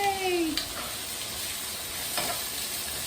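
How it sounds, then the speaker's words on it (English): Chopped mushrooms sizzle in a pan with a constant close hiss, a faint rising tone at the start and a couple of light stirring sounds, no talk. "would you like to put those mushrooms that you've got chopped so far in the pan?"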